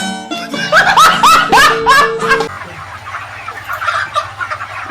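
Hens cluck loudly in a rapid rising chorus inside a poultry farm shed, close and busy at first, then settle into softer scattered clucks over a low background hum.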